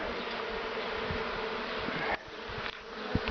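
Honeybees swarm around a beehive that has just been moved at an apiary, filling the air with a steady dense buzz throughout, with a few soft knocks near the end.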